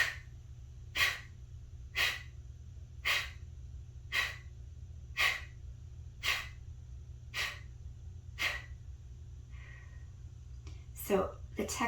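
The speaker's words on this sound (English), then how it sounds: "Take a deep breath in. As you exhale, snap the belly in." Forceful belly-breathing exhales for stress relief: about eleven sharp, rhythmic breath bursts roughly once a second, close and clear over a steady low hum, ending in a quicker cluster of puffs.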